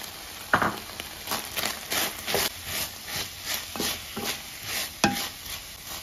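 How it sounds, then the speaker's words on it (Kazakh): Onions sizzle in a hot pan after meat has fried, while a utensil scrapes and stirs them in short, repeated strokes. "Сөйтіп тағы да жуамыз қызарғанша әдемілеп қуырып аламыз."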